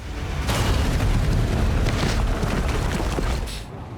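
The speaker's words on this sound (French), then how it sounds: "Une caméra de la ville de New York a filmé un homme pris dans une explosion" A loud, deep explosion beneath a New York City sidewalk erupts into a sustained roaring rumble that lasts a few seconds before cutting off abruptly. No voices.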